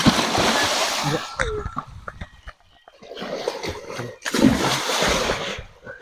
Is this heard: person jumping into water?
yes